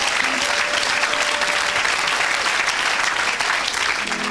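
A church congregation bursts into sustained, dense applause, loud and even throughout with the faint murmur of the crowd beneath.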